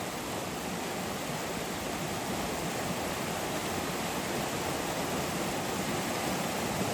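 A mountain creek in the North Cascades rushes with a constant broad hiss of flowing water, steady and close, with no voices.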